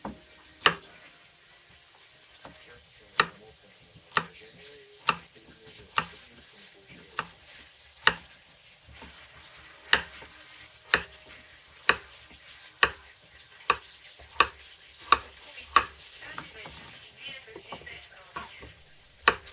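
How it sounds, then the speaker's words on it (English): Pork browning in a pan for a Bulgarian red wine pork stew, a faint soft sizzle running underneath while sharp clicks and knocks land every second or so. "While the pork is browning"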